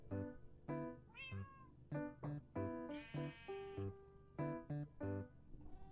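A cat meows over and over, close and clear, the tonal cries coming in a quick uneven series with short pauses between them.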